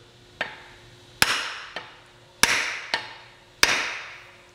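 Sharp hammer blows driving a wooden axe handle through a steel axe head, five distinct strikes alternating loud and softer, each ringing briefly, close up with no talk.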